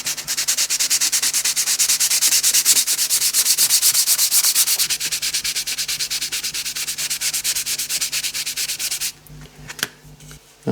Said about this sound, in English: I've just been sanding that back with a grey sanding sponge. That's a fine one, 3M.